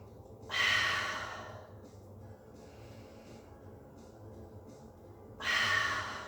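Two audible breaths during a mat pilates workout, one near the start and one near the end, each a broad airy rush, with quiet room hiss between and no talking.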